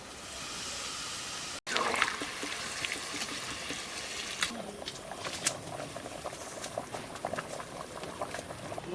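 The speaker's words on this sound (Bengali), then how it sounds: "এবারে জল দিয়ে দিচ্ছি।" Water poured into a pot of chicken curry: a sudden bubbling, sizzling rush of liquid hitting the hot pan, then steady boiling and patter that continues throughout.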